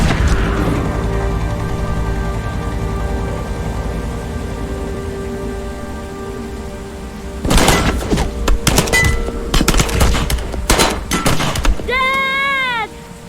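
Video game gunfire erupts after a long, steady ambient stretch: a rapid cluster of sharp, loud shots and impacts, followed by a brief shouted voice at the end.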